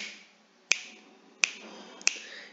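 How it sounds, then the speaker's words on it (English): Three crisp finger snaps ring out close by at slightly uneven intervals during an English lesson, each one a sharp click over a quiet background. "Snap your fingers."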